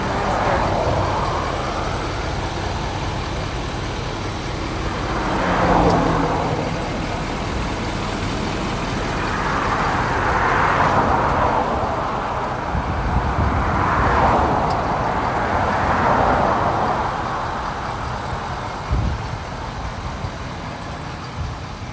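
A 2017 Ford F-350 Platinum with the 6.7L V8 Power Stroke turbo diesel runs steadily at low revs, a continuous rumble with slow swelling whooshes and no talk over it.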